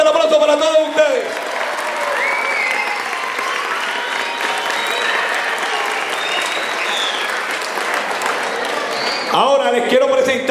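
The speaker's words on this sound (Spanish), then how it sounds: "Fuerte el aplauso para todos ustedes" A stadium crowd at the Estadio Rubín Quiles in Orocovis breaks into sustained, dense applause. A voice speaks over a PA before the clapping begins and again as it fades.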